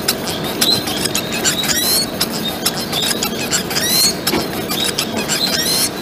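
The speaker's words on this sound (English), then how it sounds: "Now, let's hear the white rumped munia's song." A white-rumped munia sings a rapid, squeaky song of high chirps and upward sweeps, repeated in close succession over a constant background hiss with no voices.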